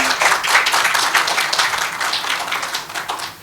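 Sustained audience applause fills a hall at a women leaders and EHS professionals awards conference, dense and steady throughout with no voices on top, easing slightly toward the end.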